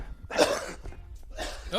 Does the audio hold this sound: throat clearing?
yes